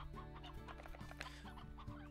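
Chickens cluck in the video game Slime Rancher, a few clipped calls over a steady musical game soundtrack, fairly faint and without speech.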